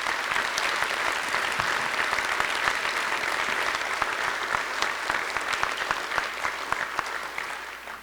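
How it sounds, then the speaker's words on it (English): An audience at a Walk of Fame ceremony gives warm, continuous applause for an honoree's mother, a steady, full round of clapping that carries on for several seconds without talk. "please give a warm round of applause for my mom"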